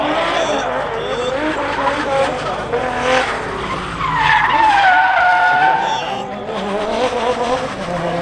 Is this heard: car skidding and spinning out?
yes